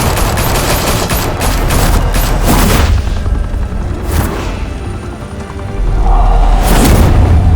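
Heavy gunfire in the Telltale Batman video game, a loud sustained fusillade of shots and booms that swells, dips briefly and then surges again near the end.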